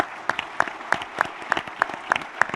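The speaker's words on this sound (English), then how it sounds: "Please join me in a round of applause in recognizing the board for their efforts" Audience applause for a board at an Institute of Politics event: faint, evenly spaced claps in a steady rhythm over soft crowd noise, lasting only a couple of seconds.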